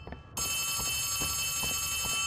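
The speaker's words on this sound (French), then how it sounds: "Oh, téléphone." A telephone in the horror video game Poppy Playtime starts ringing suddenly with a loud, steady electronic ring that carries on without a break, and low rumbling game sounds play beneath it.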